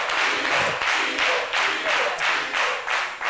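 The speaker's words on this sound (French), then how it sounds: "Dr Philo, que je demande d'applaudir aussi" A studio audience on a French midday TV show claps in rhythmic waves, loud close bursts of handclapping rising and falling roughly every half second.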